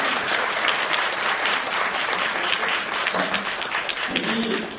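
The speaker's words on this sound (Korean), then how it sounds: "우리 박수로 모시겠습니다" A hall audience at a formal gathering in a hotel claps loudly and steadily throughout, a dense, continuous applause with no voices over it.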